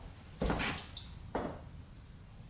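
Gasoline dripping from an old Mikuni carburetor on a rare 1970s Pacesetter three-wheeler, two or three soft, wet drips and splashes close by over a faint background hiss, no talk.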